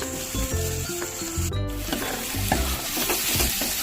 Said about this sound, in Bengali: মশলাটা হালকা হালকা কষিয়ে নিলাম।